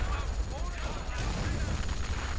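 Rifle grenades firing in Company of Heroes, a WWII strategy game, with muffled booms and crackling gunfire rolling over a dense, continuous battle din.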